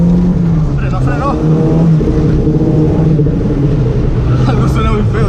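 A stock Toyota Corolla TE71 with a 2T engine revs steadily while drifting on a rainy day, a loud, continuous close-range engine drone that rises and falls, with people talking over it.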